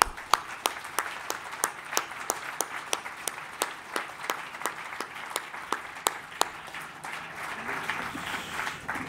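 An audience at the opening session of the Collège Belgique's annual session in Namur gives a sustained ovation, dense clapping with sharp individual claps standing out, steady and moderately loud throughout.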